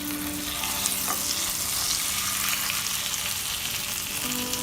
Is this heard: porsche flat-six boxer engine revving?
no